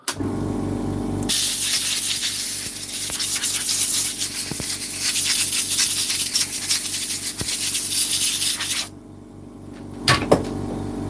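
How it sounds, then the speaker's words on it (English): An air compressor runs steadily for about eight seconds at a workbench during a DeWalt tool repair, a loud broadband hiss over a low motor hum, then cuts off, leaving quieter room sound and a couple of clunks. "I might have to put this compressor on"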